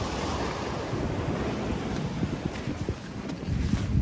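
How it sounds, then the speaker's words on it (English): Rough, stormy sea surf crashing onto a fossil-hunting beach in bad weather, a steady loud roar of breaking waves with wind buffeting the microphone, building slightly toward the end. "the seas are stormy and rough"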